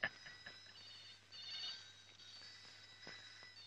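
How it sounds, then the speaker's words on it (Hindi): An old telephone bell rings insistently in a room, a continuous metallic trill running through the whole stretch at moderate level with no talking over it. "टेलीफोन का घंटी बहुत बजता है?"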